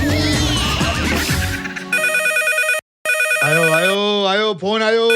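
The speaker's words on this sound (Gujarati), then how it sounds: "આયો ફોન આયો." After a burst of music, a telephone ringtone plays a loud, clear electronic melody in repeated tones, broken by a short silence, then resumes with a bending, warbling tune.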